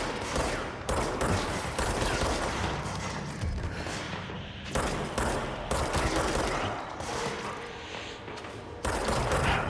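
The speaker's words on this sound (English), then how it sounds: "we're gonna shoot that, and shoot that" Gunfire rattles through a firefight in the video game Control: rapid, dense volleys of shots in repeated bursts, fairly close and steady, with no talking over them.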